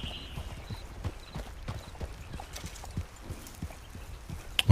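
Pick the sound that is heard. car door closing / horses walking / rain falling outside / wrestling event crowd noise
horses walking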